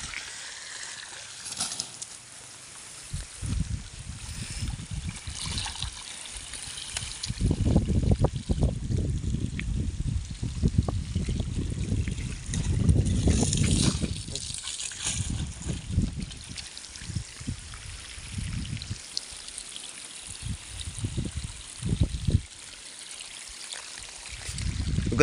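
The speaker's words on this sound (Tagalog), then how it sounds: "Ito, lumabas na yung tubig dito." Water gushes and splashes in bursts from the end of a garden hose fed by a solar pump in a vegetable garden, moderately loud with brief pauses between surges.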